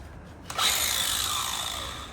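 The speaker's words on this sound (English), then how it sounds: "So they are using a DeWalt grinder and a DeWalt ratchet driver as well" A DeWalt grinder starts up and grinds metal during a Roadmaster tow kit installation on an RV, a sudden loud, steady high-pitched whine that holds for over a second and a half without talk.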